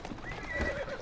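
A horse whinnies in London in Assassin's Creed Syndicate, a single short, close neigh with a quavering pitch over a faint hoof clop, lasting about a second.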